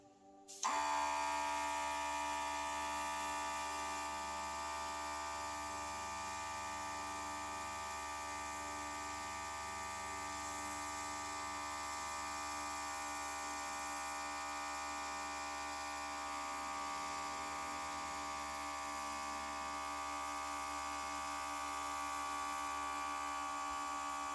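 A portable airbrush from Amazon starts up and sprays professional grade paint, a steady faint electric hum and whine holding close and unchanging after a sudden start.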